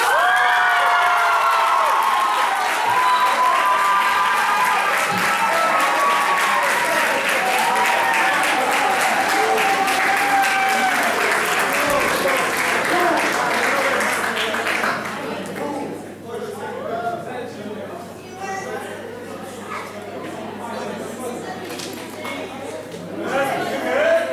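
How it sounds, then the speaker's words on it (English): Loud applause and cheering from students at a Model United Nations conference, with shouts and whoops over dense clapping, then dropping after about fifteen seconds into scattered claps and crowd chatter. "big round of applause for Angela Burma"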